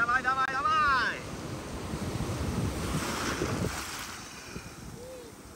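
Ocean surf rolls in off Bali under gusty wind buffeting the microphone, with a shouted voice near the start, then wash and rumble of breaking waves close by.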